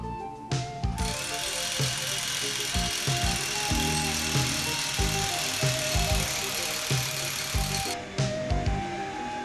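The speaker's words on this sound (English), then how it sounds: "the drilling can be undertaken with any type of rotary hammer drill" A rotary hammer drill bores an undercut hole into concrete, a loud, sustained rattling grind lasting several seconds with brief starts and stops at either end.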